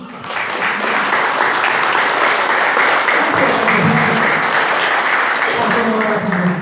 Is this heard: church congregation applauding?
yes